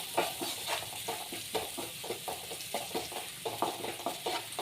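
Onions and turmeric powder being stirred in a pan, giving a steady rhythmic scraping with soft sizzling, close and fairly quiet with no talk.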